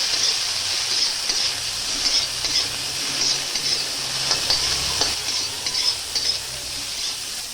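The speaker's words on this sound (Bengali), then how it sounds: "ফুলকপিটা দেওয়ার সাথে সাথে আমি একটু নুন, অল্প একটু পরিমাণে নুন, অল্প পরিমাণে হলুদ দিয়ে আবার ফুলকপিটাও এবার ভেজে নেব।" Cauliflower pieces fry in a pan with a little salt and turmeric, giving a steady bright sizzle under light scraping and stirring from a spoon, with no talk.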